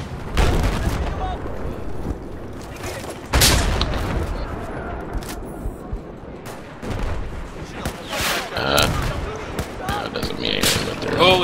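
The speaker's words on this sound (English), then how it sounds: "Everything's exploding." Battlefield 4 combat on the Lancang Dam map in a 64-player conquest match: dense gunfire, sharp shot cracks and heavy booming explosions overlap in a chaotic, continuous barrage, loud and close.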